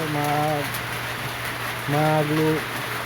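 Steady rain hisses in the background during wet weather at home, while a person talks over it the whole time.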